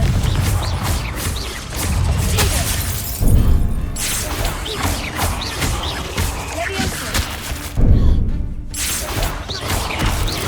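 Confringo explosive spells fired in Hogwarts Legacy burst with loud, shattering crashes and booming impacts over a busy, continuous game soundscape, with spoken voices at times.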